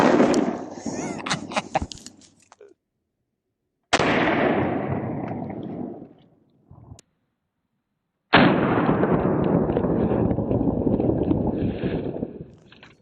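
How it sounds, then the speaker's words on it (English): A Langdon Tactical 1301 shotgun fires Remington double-aught buckshot at a body armor target; three loud blasts come seconds apart, each followed by a long decaying echo, with no talk. "We have some Remington 9-pellet double-up buck, and we'll run it here in our Langdon Tactical 1301 shotgun."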